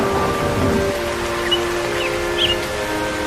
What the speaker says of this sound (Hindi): यहाँ तो फिर से बारिश शुरू हो गई।